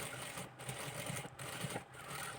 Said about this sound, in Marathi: पिन्स लावून झाल्याच्या नंतर पूर्ण गळ्याला शिलाई मारून घ्यायची आहे